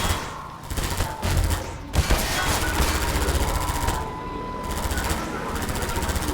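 Rapid automatic gunfire in the video game Half-Life 2 comes in dense, loud bursts with short pauses, mixed with game effects.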